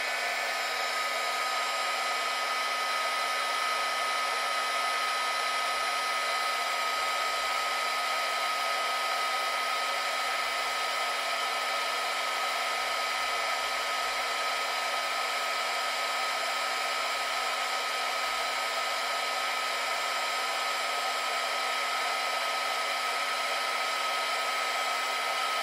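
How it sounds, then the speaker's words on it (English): A mini heat-shrink heat gun blows hot air in a steady, unbroken whoosh with a constant whine, held close and running alone without pauses or speech. "Turn on the heat gun."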